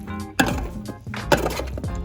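Potatoes and plantains being tossed with jerk seasoning, giving a few soft knocks and thuds of a utensil against a bowl at an uneven, unhurried pace, close up and with no talking.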